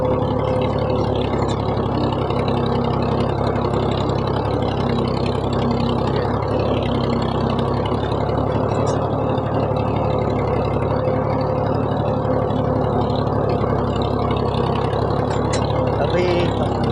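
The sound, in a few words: tractor engine ploughing a field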